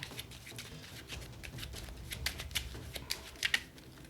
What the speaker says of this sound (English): we need to shuffle our hit location deck